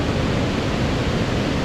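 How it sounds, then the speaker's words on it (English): A cascade of water pours in a broad, steady rush near Toba Inlet, heard as constant noisy roar filling the moment without pause or speech. "Another cascade of water."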